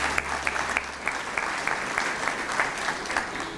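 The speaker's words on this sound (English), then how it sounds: "A round of applause for Raul Castillo, please." An audience at a school partners breakfast program applauds for Raul Castillo, a steady patter of clapping hands, moderately distant and fairly soft, with faint scattered voices beneath.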